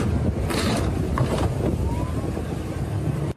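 A speedboat runs at sea, its engine a low steady drone under loud rushing wind and water noise, close and continuous for a few seconds.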